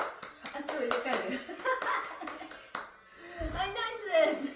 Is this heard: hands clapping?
yes